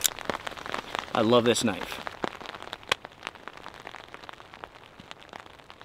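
Rain falls on a tent while storm camping in freezing rain, sounding as scattered drops and ticks on the fabric, with someone speaking briefly over them.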